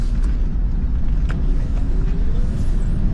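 A 1989 Mercedes-Benz 560SEC with an AMG kit on a test drive, heard from inside as a steady, loud low road rumble and engine drone with no talking.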